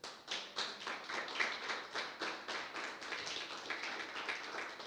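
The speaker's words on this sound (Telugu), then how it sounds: "ఒకసారి చప్పట్లు కొట్టండి." A church congregation during a Gospel of Mark sermon claps in steady rhythmic unison, with sharp, evenly spaced hand claps repeating for several seconds at a brisk pace and no talk over them.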